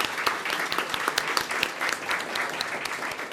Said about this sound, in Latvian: Uztaisim kārtīgs aplausus.